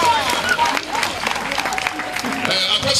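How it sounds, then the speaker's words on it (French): An audience at a 75th birthday celebration claps together in a steady, dense wash, with a hum of crowd voices and scattered talk mixed underneath. "On applaudit très fort."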